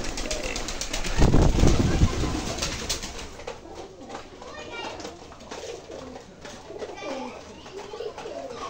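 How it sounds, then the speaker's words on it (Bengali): Newly brought pigeons released into a farm loft coo repeatedly nearby, a loud burst early and then softer calls continuing, with voices murmuring in the background. "যদিও খামারে এখনই ছেড়ে দিলাম, 2 দিন আগে আনছি, রেস্টে ছিল কবুতর"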